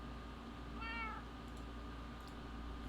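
A house cat lets out a single short meow, fairly faint against a steady low hum of background noise.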